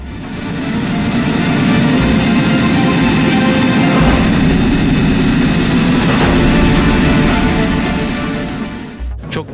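The engine of a Hürjet jet trainer aircraft roars steadily at high volume for several seconds, a broad continuous whine and rumble that cuts off abruptly near the end.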